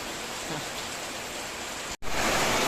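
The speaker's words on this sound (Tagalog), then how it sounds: "nakikita nyo yung lakas-lakas ng ulan" Heavy rain pours down in a dense, steady roar, close and loud, with a brief break before it continues.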